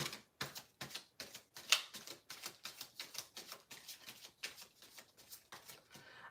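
Tarot cards being shuffled by hand, a quiet, close run of rapid riffling bursts in an even rhythm, with a single sharper snap partway through.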